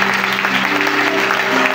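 A congregation at a Bible seminar breaks into loud, sustained clapping that fills the room evenly from start to finish, with a held musical tone underneath.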